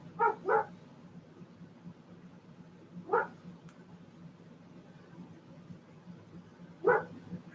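A dog barks at a car driving past, giving short sharp barks at a distance: a quick double bark, one more a few seconds later and another near the end, over steady low background hum.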